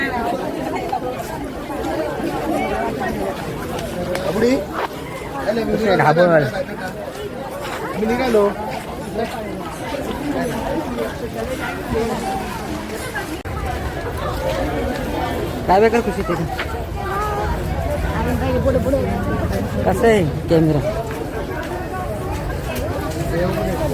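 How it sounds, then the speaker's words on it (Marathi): Crowd of visitors streaming out of Katraj zoo in Pune at closing time, a steady babble of many voices close by with footsteps and shuffling throughout; people talk nearby. "गेट बंद करायला टाइम झालेला आहे त्यामुळं गर्दी बघा"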